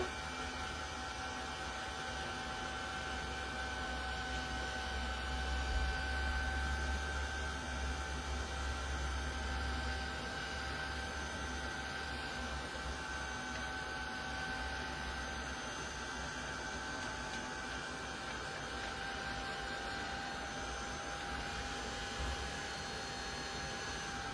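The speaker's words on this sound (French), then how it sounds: "je vais les sécher au heat gun" A heat gun dries watercolour-painted paper craft pieces, giving a steady, even blowing roar with a low hum that holds for most of the time and then tapers off slightly, with no talking.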